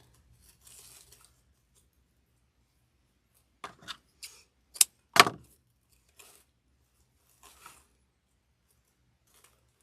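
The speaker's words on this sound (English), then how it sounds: "It's just too long, so I'm going to cut it shorter." Scissors snip pine boughs for a snowman wreath in a few sharp, close cuts clustered near the middle, with faint handling rustles before and after in an otherwise quiet room.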